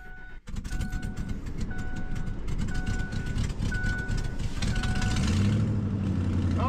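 A Ford F-350 pickup fitted with a snow plow cranks and fires up, then settles into a loud, close idle with a rising engine rumble and a repeating electronic chime.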